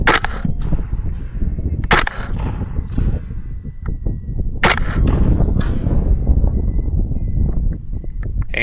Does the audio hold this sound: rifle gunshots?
yes